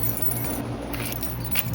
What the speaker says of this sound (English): I might just have to rattle the keys